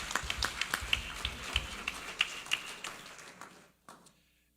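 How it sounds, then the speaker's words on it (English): Scattered clapping from the audience at an ecumenical service, a series of sharp irregular claps that thin out and stop, leaving near silence at the end. "please join me in giving our Pastor James and the NAACP a big round of applause."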